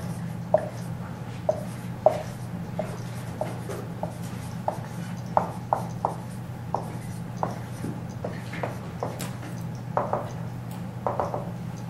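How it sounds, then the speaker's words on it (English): A pen scratches and taps across a surface during a chemistry lecture, short strokes coming in an irregular rhythm over a steady low room hum, close and fairly quiet. "I'm going to write that down."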